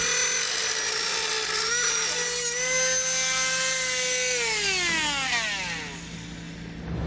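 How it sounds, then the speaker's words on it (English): A Dremel rotary tool trims the plastic front bumper fascia of a 2011 Ford Fusion, a steady high whine that rises and falls in pitch as the cut progresses, loud and close with no talking. "Now I'm going to use a Dremel tool to do that."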